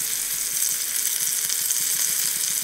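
A hamburger patty for a loco moco rice burger frying in a pan, with a continuous bright sizzle held at an even, fairly loud level throughout.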